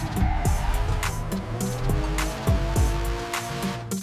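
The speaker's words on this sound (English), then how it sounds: "I've got this 8-second car racing clip that I previously generated with VO3" Racing cars roar with engine revs that rise and fall, tires squealing and skidding in repeated swooping bursts; the loud, continuous action sound carries no talk.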